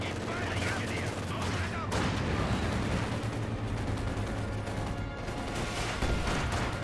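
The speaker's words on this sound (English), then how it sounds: "Keep firing, engineer. Don't let up." Dense battlefield gunfire from the video game Company of Heroes 2: rapid overlapping shots and machine-gun bursts with heavy rumbling impacts, loud and continuous throughout, with faint voices mixed in.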